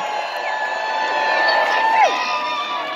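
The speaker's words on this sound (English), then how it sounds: "Give yourselves a big round of applause, Michigan." A rally crowd outside the state capitol in Lansing, Michigan cheers and applauds in a steady, loud wash of voices, with whoops and shouts rising over the noise. The sound holds for about three seconds.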